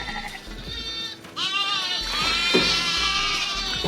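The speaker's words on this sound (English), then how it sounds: "These are goats." Goats bleat on a goat farm where goats and sheep are penned together, several overlapping wavering cries rising loudly one after another over steady background noise.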